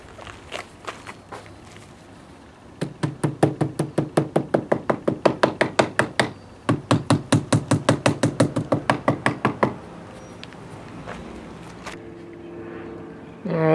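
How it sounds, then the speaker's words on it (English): Hammer blows on exterior house trim edge during stucco repair, a long run of sharp, evenly spaced close taps in two fast bursts with a short pause between, then quieter handling noise. "Just want to hit that with the hammer."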